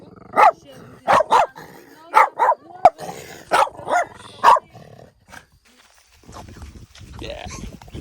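A dog barks in a string of loud, sharp, close barks, single and paired, through the first half, with a growl between them; faint talk and low murmuring follow as the barking stops.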